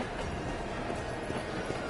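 Train in the video game 13 Sentinels: Aegis Rim, a continuous rolling rumble of railcars at moderate loudness, heard alone without talk over a short span.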